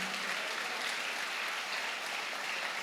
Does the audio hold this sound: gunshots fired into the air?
no